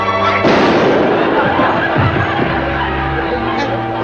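A gunshot in a slapstick comedy show, one loud sharp bang followed by a rumbling echo and a noisy crowd reacting, on an old broadcast soundtrack.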